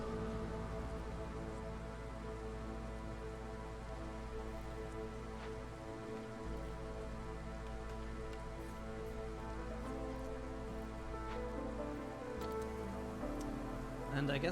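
Steady drizzle in the video game Against the Storm, a soft continuous patter of light rain holding at an even level throughout with faint scattered drops, no talk over it.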